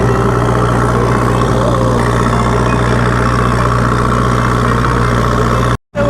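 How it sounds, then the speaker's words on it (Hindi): A JCB backhoe engine drones steadily during a ride, a loud, close, continuous low rumble with a constant hum throughout and one brief cut near the end. "ये वाली लिफ्ट लेना बहुत मुश्किल काम है। जेसीबी में पहली राइड है मेरी।"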